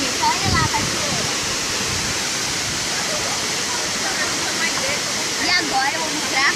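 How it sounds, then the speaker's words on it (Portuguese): Waterfall at Cachoeira de Meu Deus in Eldorado, São Paulo, a loud, continuous broadband rush of falling water close by, with a voice faintly present underneath. "Olha lá a cachoeira."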